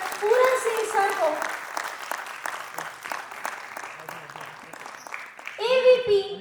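Guests at a National Environment Youth Parliament regional round are welcomed onto the stage with steady audience applause. A voice announces over the clapping, and the applause swells again at the close.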